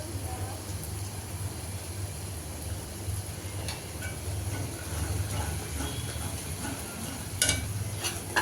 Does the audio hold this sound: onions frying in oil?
yes